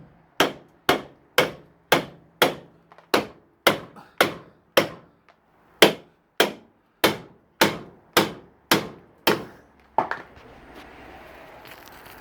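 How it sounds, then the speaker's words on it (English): Roughly eighteen sharp hammer blows ring out on a stuck brake drum of a 1974 Renault 4 747cc at a steady, even pace, loud and close, followed by a low mechanical rumble. "I'm going to hit this with a hammer."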